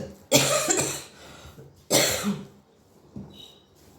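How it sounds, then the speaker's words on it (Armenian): Two harsh, forceful coughs a second or so apart, fairly close, followed by a softer throat sound; no talking. "այս հազը չի անցնում, էլի օրվա մեջ մի քանի անգամ հազում եմ"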